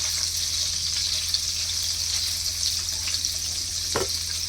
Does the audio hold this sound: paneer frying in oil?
yes